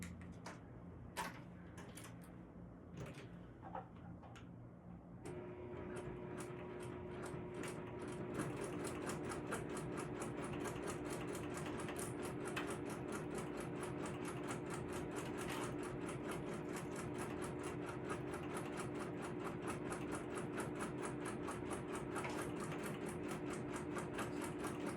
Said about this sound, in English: we're just going to go ahead and sew these with the called for seam